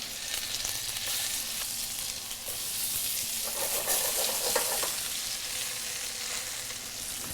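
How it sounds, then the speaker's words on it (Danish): Potato lasagne browns in a frying pan, sizzling steadily and loudly with a bright continuous hiss and occasional spatters, alone without voices. "Kartoffeldelen har vi den her lasagne, vi lavede på kartoffel. Den bruner vi lige så stille af"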